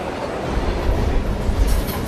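A Mumbai commuter train rolls past on the railway with a continuous heavy rumble and rattle of wagons, loud and close, with a brighter metallic hiss of wheels rising toward the end.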